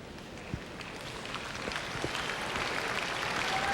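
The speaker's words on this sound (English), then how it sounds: "the crowd at the Agridome comes alive with this rhythmic applause" A curling crowd at the Agridome keeps up steady rhythmic applause during a 1998 Scotties tiebreaker, a dense, even wash of clapping with a few sharper thumps, moderately distant and continuous throughout.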